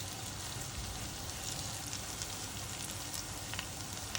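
Round batter balls fry in hot cooking oil in a pan, a dense, even crackling sizzle that carries on without a break, quiet and close, with no voices.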